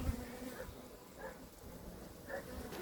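Honeybees in a hive hum in a soft, continuous buzz close by, rising and falling slightly, with faint voice-like sounds mixed in.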